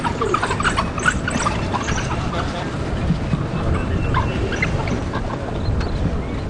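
African wild dog pups squeak and chirp playfully in short, scattered high calls over a steady rumbling background, moderately distant, with the sounds overlapping irregularly across the clip.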